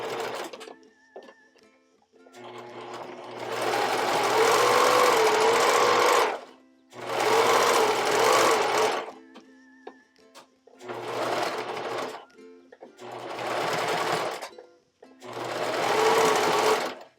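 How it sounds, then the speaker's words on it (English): A sewing machine top stitches elastic on a bra using a wide multi-step zigzag stitch, running in five close, steady bursts of a few seconds each with short pauses between. "switching back over to a multi-step zigzag stitch as wide as you can do. Fold the elastic towards the inside of the garment and top stitch that in place."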